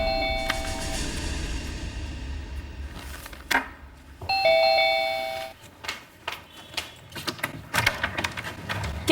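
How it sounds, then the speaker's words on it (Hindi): A doorbell chimes twice, a clear tonal ding-dong ringing out over a quiet room, followed by faint shuffling and a few light knocks and clicks. "तभी डोरबेल बजी।"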